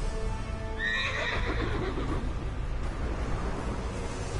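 A Pegasus horse in the zombies mode of the Black Ops 4 video game lets out a single high whinny, followed by rhythmic hoof clops over a steady rushing game background.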